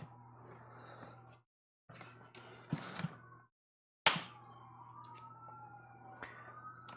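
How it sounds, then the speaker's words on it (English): Emergency sirens pass by outside, wailing and sliding in pitch at a moderate distance behind indoor room hum, with a few knocks and handling thumps between cuts. "There goes more sirens."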